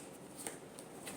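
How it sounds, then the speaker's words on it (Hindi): Tarot cards shuffled by hand, a soft, brief riffling flutter with a few light snaps, close and fairly quiet, heard alone. "last shuffle"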